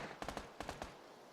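Gunfire in the battle-royale video game PUBG (PlayerUnknown's Battlegrounds): a quick burst of about six sharp shots in two clusters of three, fairly faint and at a distance, over a quiet background.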